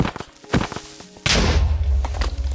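A creeper explodes in Minecraft, a sudden loud blast that cuts in after a few soft thuds and leaves a heavy rumbling boom that trails off, near and alone.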